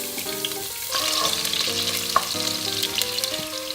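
Garlic frying in about five spoons of olive oil in a hot pan, a steady close sizzle with light crackles and the scrape of stirring, no talking.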